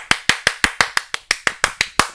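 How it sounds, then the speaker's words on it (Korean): Hands clap eleven times in a steady, even rhythm, each crack sharp and loud, with no talking. "박수 한번 치라!"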